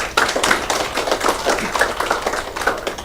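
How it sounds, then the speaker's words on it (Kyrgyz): People clap their hands at an outdoor village gathering, a steady fairly loud patter of many overlapping claps throughout. "Азамат, кол чаап коебуз."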